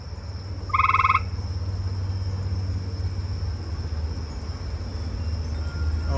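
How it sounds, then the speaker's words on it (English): An eastern gray tree frog gives a single short, clear trill outdoors, loud against a steady low rumble and a faint high hum that run throughout. "I'm hearing this eastern gray tree frog"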